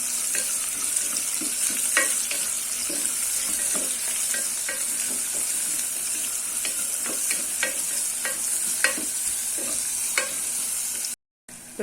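Chopped onions, about a cup from two large ones, sauté in hot oil in a pan for tomato rice, giving a steady close sizzle broken by frequent sharp taps and scrapes of a stirring spoon, then a brief silence near the end.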